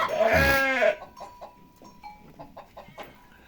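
A goat giving birth on a Turkish farm lets out one long, loud, strained bleat up close, followed by quieter animal murmurs and faint rustling.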